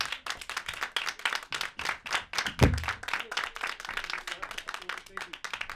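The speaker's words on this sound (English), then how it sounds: "Come on, y'all, keep it clapping for my" A comedy club audience claps for a stand-up comedian, a dense run of hand claps that goes on throughout while a host talks over it.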